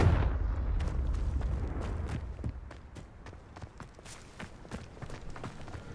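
Confringo blasting spell going off in Hogwarts Legacy, a burst of loud explosive impacts at the start followed by a string of sharp, repeated cracks and thuds over rumbling game noise.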